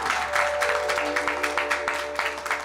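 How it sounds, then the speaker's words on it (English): Applause from an audience at a Shrimad Bhagwat Katha religious gathering, a steady patter of clapping over about three seconds, fairly close and moderately loud, with a sustained tonal hum running underneath. "Give them again a lovely round of applause."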